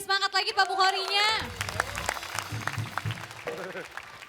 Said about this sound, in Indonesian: Tepuk tangan dong biar lebih semangat lagi Pak Bukhorinya.